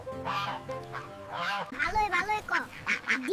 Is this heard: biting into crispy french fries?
no